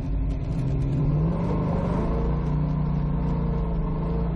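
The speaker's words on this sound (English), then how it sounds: "We'll run it through its gears a little bit over here" A Pontiac 400 V8 in a car, freshly tuned at the carburetor, revs hard and pulls through its gears, a loud, continuous engine roar close by with rising and falling pitch.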